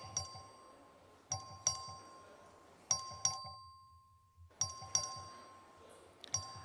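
Bright bell chimes ring out repeatedly in short clusters, with a brief pause midway, over a hushed room murmur.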